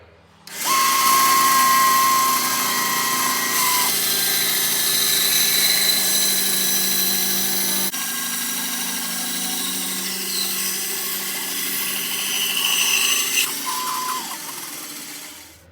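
A bandsaw cuts through wood in a workshop, a loud steady whine sustained for roughly twelve seconds, then spinning down at the end.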